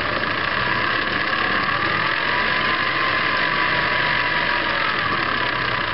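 A Viking Type 21 sewing machine runs steadily in low gear, giving a continuous, fairly loud mechanical hum and whir with no break and no voices.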